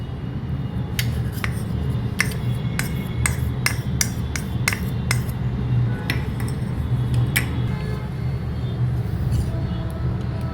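Spoon clinking against a bowl while stirring cornflour into milk for a mango sago dessert, a run of sharp metallic taps in uneven rhythm over a steady background hum.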